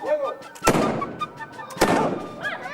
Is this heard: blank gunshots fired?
yes